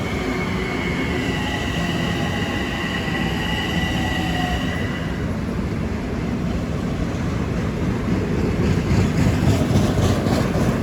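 An M9 commuter train passes through Kew Gardens at rush hour, a loud continuous rumble with a fading whine and rhythmic wheel clatter building toward the end.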